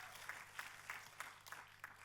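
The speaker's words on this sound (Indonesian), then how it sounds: "Tepuk tangannya yang paling meriah buat Tuhan kita" A church congregation claps together in a steady rhythm, roughly three claps per second, faint and distant with a low hum underneath.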